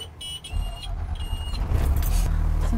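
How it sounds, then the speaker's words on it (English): School bus diesel engine turning over and settling into a steady low idle, the rumble building and holding loud and close. "Turn the engine on."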